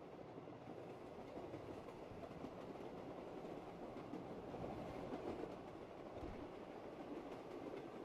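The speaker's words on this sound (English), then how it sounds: "Well, I'm already on the tram." A rail tram ride in Call of Duty Black Ops 3 Zombies, Shadows of Evil map: a continuous low rumble with rhythmic wheel clatter, steady and fairly loud throughout, without voices.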